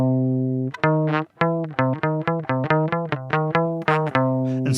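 Closing notes of a harmonic minor scale, with the raised step to the leading tone, played as a run of clean, bright pitched notes in steady rhythm, loud and close with no voices.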